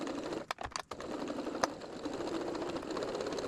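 A sewing machine stitches around the edge of a quilt-as-you-go fabric pumpkin, a quiet, rapid, steady mechanical whir with a few brief clicks near the start.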